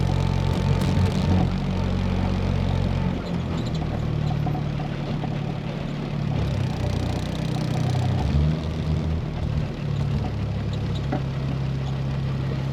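A 1972 Triumph GT6 fitted with a TR6 engine idles on choke on a chilly morning, its steady, close engine note running continuously with slight wavers in pitch and no talk over it.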